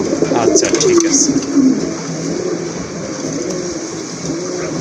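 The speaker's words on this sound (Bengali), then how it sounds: "এটা হচ্ছে আপনার রেড চেকার রেসার কবুতর, খুবই সুন্দর কবুতরের কালার কোয়ালিটি দেখেন" Red checker racer pigeons cooing at a pigeon sale, with soft, repeated low coos close by over steady market background noise and people talking.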